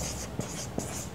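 A teacher writes on a board during a class 12 chemistry lesson on coordination compounds: faint, soft scratching strokes with two brief sharper taps, low and steady under a quiet room.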